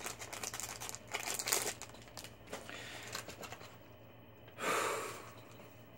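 Foil packaging of Marvel and DC mystery figures crinkles and tears open close by, in rustling bursts with a sharper rip near the end, fairly quiet with some breathing.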